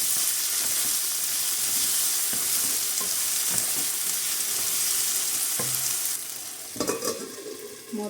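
Onions and diced medium potatoes frying in a pan for a beerakaya pottu dish, a steady loud sizzle with a few stirring scrapes, quieting slightly near the end.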